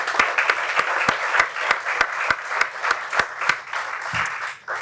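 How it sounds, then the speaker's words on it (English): Audience applause at the close of a city board of mayor and aldermen candidate forum in Franklin, a dense steady wash of many hands clapping with a few sharper nearby claps, sustained throughout without talk. "I'd like to give them a round of applause as well."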